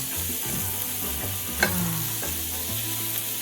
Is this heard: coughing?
no